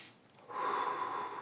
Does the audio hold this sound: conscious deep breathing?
yes